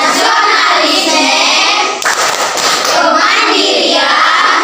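A group claps out the rhythmic PPK clap chant at an Indonesian school, loud close hand claps in a fast patterned beat with a short break midway before resuming.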